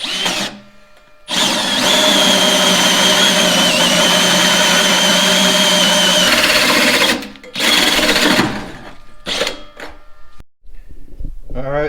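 A metal patch, cut out with a hole saw, is welded in on a Chevy Blazer: a close, steady crackling buzz holds for about six seconds, then gives way to a few shorter sputtering bursts and scattered clanks.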